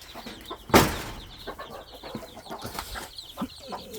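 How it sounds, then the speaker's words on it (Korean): Chickens cluck and murmur close by while eating fruit peels and banana, with scattered short calls, a brief loud rustling burst early on, and soft background movement. "여기 꼬꼬들도 니네들도 먹고 먹어 먹어"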